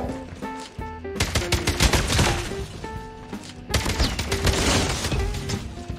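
Oden assault rifle from a shooter video game firing in rapid automatic bursts, two long loud strings of shots separated by a short pause, with no talking over it.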